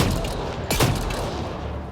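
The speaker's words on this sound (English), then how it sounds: "Oh, that's right, I have a shotgun." Shotgun blasts in the video game Mass Effect: Andromeda, a burst of booming gunfire rising out of a dense, loud game soundscape and fading back into it.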